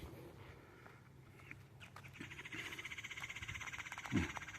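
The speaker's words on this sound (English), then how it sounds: "Noisy bird." A noisy bird calls in rapid repeated bursts outdoors, a chattering rhythmic call rising in the second half over background ambience.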